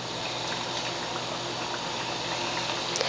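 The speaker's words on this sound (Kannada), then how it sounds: "ಈಗ ಎಣ್ಣೆ ಕಾಯ್ದೈತಿ, ನಾವು ಎಣ್ಣೆಗೆ ಒಂದೊಂದೇ ಬಿಡ್ತೀನಿ ನೋಡಿರಿ" Kodubale dough rings fry in hot oil, a dense, even sizzle and bubbling that fills the whole stretch with a few faint pops, close and steady with no speech.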